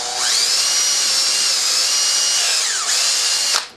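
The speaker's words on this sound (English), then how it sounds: "And now we widen the this upper part with the 5mm drill." A power drill with a 5mm bit widens a hole in a homemade airbow part, its motor whining loud and steady for about three seconds, dipping briefly before spinning down.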